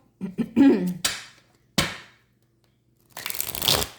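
Crisp bursts of cards being riffled and shuffled, two short flurries then a longer one after a pause, close by with no voices.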